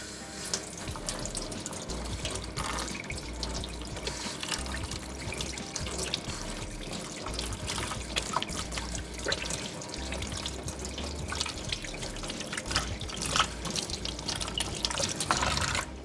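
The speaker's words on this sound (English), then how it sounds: "I'll just wash my hands first." Hands being washed under a running kitchen tap, a steady close rush of water splashing into a sink with small drips and shifts in the flow, and no talking.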